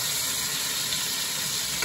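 Chicken for chicken Marsala sizzles steadily in a hot pan, a close, dense crackling hiss that stays constant throughout.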